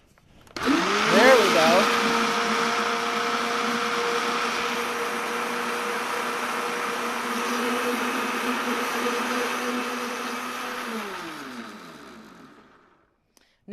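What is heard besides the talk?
blender blending eggs for egg bites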